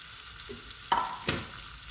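Fish moly ingredients, ginger, green chillies and salt, are stirred in hot oil, giving a steady low sizzle broken by two sharp stirring scrapes in quick succession.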